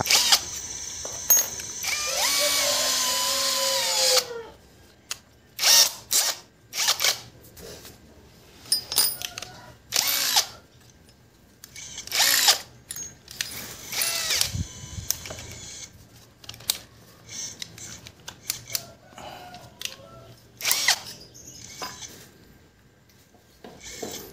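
A Kamolee brushless 13 mm impact drill runs at speed 2. A sustained whirring motor whine opens, followed by a string of short, loud bursts of spinning and rasping with gaps of near silence between them. No one speaks.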